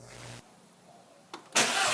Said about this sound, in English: the sound that we're hearing in that clip seems much like a PCV valve on startup